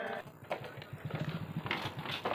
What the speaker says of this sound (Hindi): इस चचरी पुल के सहारे जो ये बाइक पे आ रहे हैं